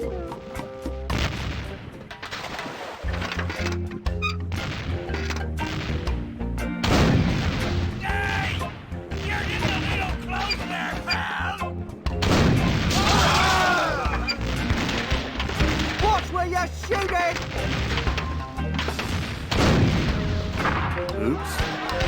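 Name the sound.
self-loading cannon firing in The Curse of Monkey Island video game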